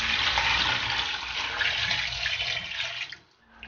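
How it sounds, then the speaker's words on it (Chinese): Water poured steadily into a pressure cooker holding pork ribs, a continuous close rushing splash that tapers off near the end, no voices. "加入适量清水"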